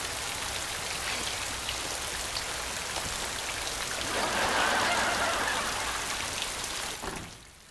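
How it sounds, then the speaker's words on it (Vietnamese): Heavy rain pours in a dense, even patter of drops hitting surfaces close by, swelling briefly louder midway before easing off near the end; no one speaks. "Mưa gió lớn vậy mà đứng vậy rồi mà dầm mưa"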